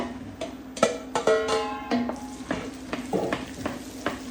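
Aubergines for a ratatouille sizzle and fry in a pan, with a loud steady hiss, metallic clinks and the scrape of stirring utensils close by, and a high ringing tone briefly over the frying.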